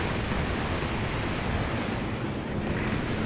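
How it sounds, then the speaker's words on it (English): Dense, continuous rumbling blast and roar in a Company of Heroes 2 battle as P-47 aircraft attack a Panzer IV tank, loud and sustained throughout with no clear separation between hits. "What do I hear? That'll be P-47s flying on in."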